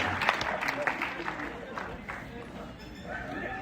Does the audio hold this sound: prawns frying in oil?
no